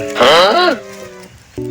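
A goat being pulled along on a lead calls out with a loud, wavering bleat, followed by a quieter pause and a shorter second bleat near the end.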